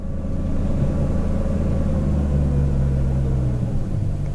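A BMW E39 540i with a 4.4 V8 engine idles steadily at low rpm, giving a loud, close, continuous deep rumble that holds even throughout, with no talking.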